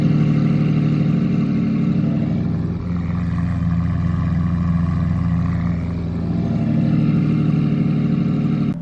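Lamborghini V12 engine from an Aventador or Revuelto, a steady close rumble held near idle with a gentle swell in revs midway, loud and alone without talking.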